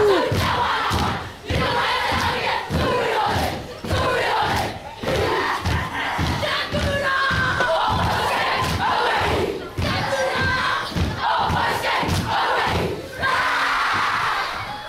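A group of kids perform a haka war chant face-off, loud crowd-like shouting in unison with rhythmic stamps or slaps repeating steadily throughout, the chant filling the whole stretch with brief dips between phrases.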